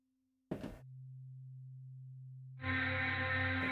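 A sine wave synth tone from a free Kontakt instrument, a steady pure hum that steps down to a lower sustained pitch after a brief noisy burst, then swells into a brighter, fuller layered tone, loud and close with no talking.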